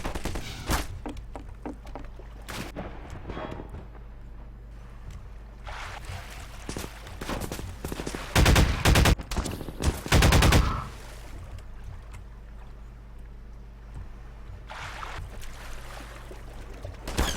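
Video game gunfire aimed at the player in a coastal shooter, rapid bursts and scattered single shots, some loud and close, with a dense heavy volley in the middle, no talking.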